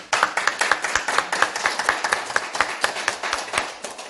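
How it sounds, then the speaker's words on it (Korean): An audience at a Daejonggyo religious sermon claps in a fast, even rhythm, a steady run of sharp, moderately distant claps with no talk over them. "박수 안 쳐?"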